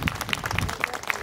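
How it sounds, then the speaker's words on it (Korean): Brief burst of audience clapping at a village arts presentation in Ayajin, Goseong, scattered hand claps from a small gathered crowd heard close. "박수 한번 부탁드렸습니다."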